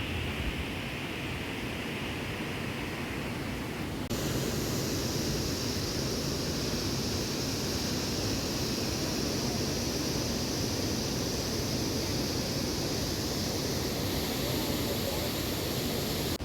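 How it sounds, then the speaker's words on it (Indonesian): Steady, dense roar of a rushing waterfall, Curug Emas in Tahura Djuanda forest park, loud and continuous throughout, with no breaks or distinct events. "Rasa lelah seketika hilang setelah mendengar deras air terjun"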